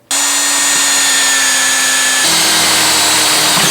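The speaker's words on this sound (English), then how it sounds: "I'm going to go ahead and drill this with the same 1/4 inch drill bit" A power drill with a 1/4 inch bit whines loudly and steadily close by, its pitch dropping slightly as it bites into a motorcycle bracket.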